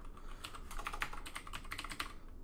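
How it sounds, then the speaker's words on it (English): A loud computer keyboard clatters with rapid, uneven keystrokes, close and continuous, with no voices over it. "You will hear my very loud keyboard though."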